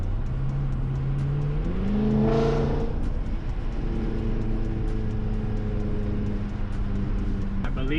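A BMW F10 M5 with an MHD tune accelerates in comfort mode, its engine note rising through gears with a brief shift dip, heard from inside the car as a steady, loud drone under road noise.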